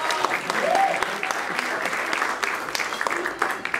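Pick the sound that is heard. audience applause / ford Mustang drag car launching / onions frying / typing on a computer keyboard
audience applause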